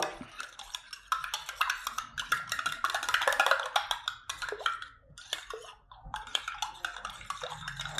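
A spoon clinks and scrapes repeatedly inside a glass, stirring a herbal drink of lukewarm water with peppercorns and garlic cloves. The taps come in quick bursts with short pauses between them.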